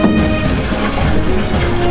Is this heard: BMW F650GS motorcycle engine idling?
no